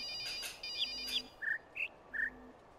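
A phone's electronic ringtone goes off during play of the puzzle video game The Witness, a short run of bright chirping tones in quick bursts mixed with the game's tonal puzzle sounds, fairly close and clear with no talking.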